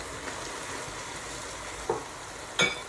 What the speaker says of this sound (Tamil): இது வந்த பிறகு எடுத்து வச்சிருக்கிற சோறை அப்படியே கொட்டுவோம்